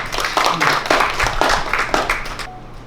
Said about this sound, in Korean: 총재님 다시 한번 큰 박수 부탁드리겠습니다